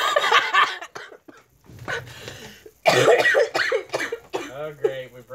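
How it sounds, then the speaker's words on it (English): A harsh, repeated coughing fit breaks out in short bursts between stretches of laughter and talk, with people speaking and laughing close by. "I didn't mean to cough up my lungs on you guys"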